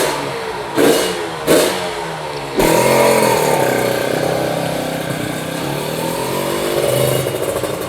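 A Kawasaki Ninja motorcycle engine blips twice in short revs, then holds a loud, sustained high rev that wavers in pitch, close by with no talking.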